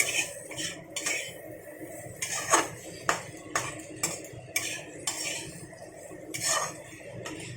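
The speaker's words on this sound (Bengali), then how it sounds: "এইভাবে আরও একটু নাড়াচাড়া করে ভেজে নেব।" Okra being stirred and fried in a pan, heard as a series of distinct metallic scrapes and clinks of a spatula against the pan at an uneven rhythm, moderately close, with a faint background hiss and no talking.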